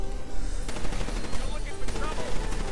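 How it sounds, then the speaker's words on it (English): Rapid gunfire at spawning demons in Black Ops 3 Shadows of Evil zombies mode, dense automatic bursts and crackling impacts filling the clip, loud and close with a few sharper shots standing out. "Shoot all the demons that spawn."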